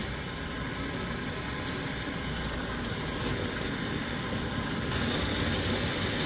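Water running continuously over an old metal tray during rinsing, a steady broadband hiss and splatter, close and moderately loud, slightly louder near the end, no speech.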